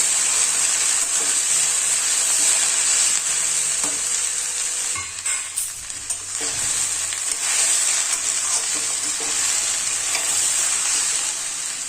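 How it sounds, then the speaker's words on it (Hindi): Okra and potato bhujia frying in a pan in a Chhattisgarh-style kitchen, a continuous close hiss and sizzle with occasional stirring scrapes and a brief dip midway, no voices heard. "जी हाँ, इसको लाल भी होते तक तलना है"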